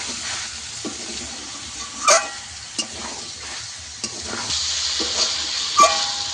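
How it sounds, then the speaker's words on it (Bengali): Potatoes stir-fried with chicken and spices for a chicken and potato curry: a steady sizzle in the pan with scraping spatula strokes that swell at intervals, close and alone with no talk. "আলুটাও কিছুক্ষণ এর সঙ্গে কষিয়ে নেব।"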